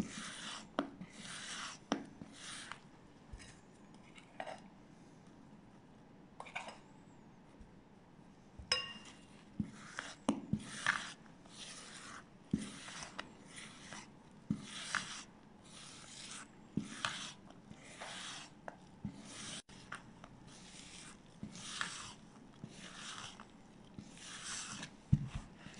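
Cookie dough being stirred in a bowl with gentle circular motions, giving repeated soft scraping and clinking strokes in a steady rhythm, close and fairly quiet with no talk.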